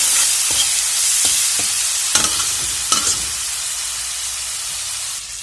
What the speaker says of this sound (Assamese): মছলাখিনি মোৰ ভাজি হৈ গৈছে, তেল ডিঙি উঠিছে।